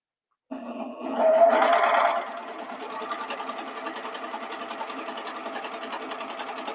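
A Juki serger runs steadily and close by, a brief louder burst near the start giving way to an even mechanical whir that continues to the end, with no talking.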